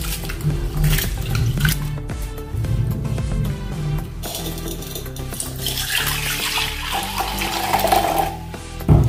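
Running water splashes steadily into a vessel while mixed dal lentils are swished and stirred, with clinking and scraping throughout.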